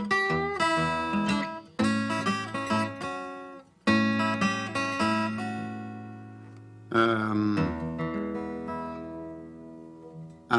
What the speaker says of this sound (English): You bend the note.